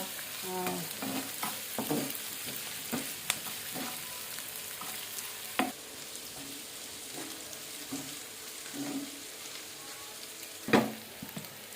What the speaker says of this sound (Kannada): ಇದು ಚೆನ್ನಾಗಿ ಎಣ್ಣೆಯಲ್ಲಿ ಫ್ರೈ ಆಗಲಿ